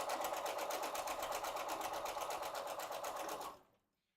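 A loud sewing machine stitching quilt fabric for veterans' quilts runs in a fast, steady rhythmic whir, close up, for about three and a half seconds before stopping abruptly into silence.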